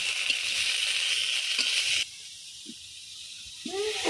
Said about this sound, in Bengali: আমি টমেটোগুলো একটু হালকা বাজাতে নিব এই তেলের করার মধ্যে